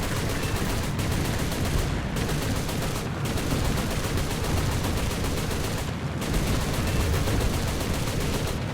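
7.7 mm machine guns firing from a plane in War Thunder, a loud, dense, continuous rattle of rapid fire with a few brief pauses between bursts, over constant engine drone.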